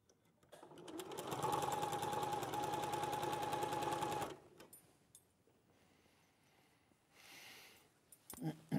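A sewing machine stitches Christmas quilt pieces in a steady, fast mechanical run for about four seconds, close and loud, then stops; a few quieter handling rustles follow.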